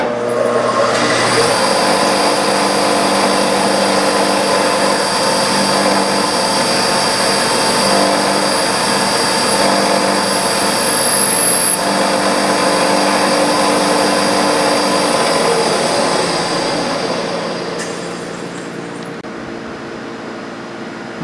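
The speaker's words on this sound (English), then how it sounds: "all that's going to be subsumed when I turn the mill on" A milling machine drilling with collet-held bits runs loud and close with a steady mechanical whine and hum that holds for a long stretch, then eases slightly near the end.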